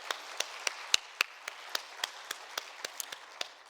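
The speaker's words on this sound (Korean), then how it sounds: "감사의 박수 한번 해주시기 바랍니다" Sparse, evenly spaced hand claps from a church congregation at a Wednesday evening service, a slow rhythmic clapping of a few people heard at a moderate distance in a reverberant hall.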